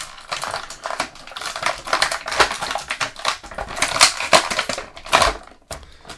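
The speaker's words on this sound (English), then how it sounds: "These scissors have seen better days." Crisp, irregular snipping and crinkling of plastic action-figure packaging being cut with worn scissors, a dense run of close crackles and crunches with no talking.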